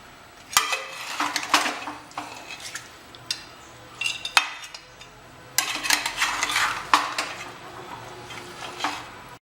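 A spoon stirs thick mutton korma in a metal pot, Hyderabadi style, with repeated close scraping and clanking against the sides in uneven bursts over a faint sizzle. No one speaks.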